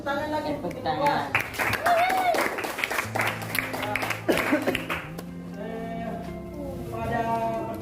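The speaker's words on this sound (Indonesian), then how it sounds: "Baik, tepuk tangan lagi. Tepuk tangan." A Grade 7 class at an Islamic junior school in Gorontalo claps hands again, a brief burst of uneven claps in the first half that gives way to a teacher's voice speaking.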